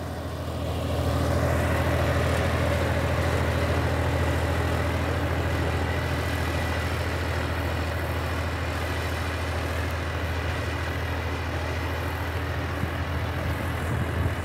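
A John Deere 5405 four-wheel-drive tractor engine runs at a steady low idle, a continuous deep rumble with no voices, unchanging from start to finish.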